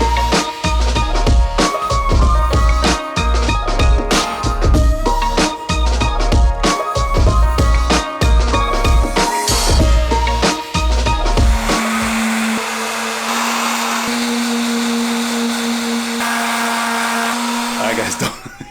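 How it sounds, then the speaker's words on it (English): A big electric sander runs loud and steady against a desk during a home office makeover, broken by repeated short stops and restarts before settling into a continuous whine. "I even hand sanded it, and I'm pulling out the big sander now"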